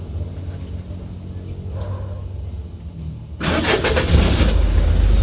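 A Mitsubishi L300 FB van engine cranks and catches after a quiet stretch, then settles into a loud, rumbling idle close by.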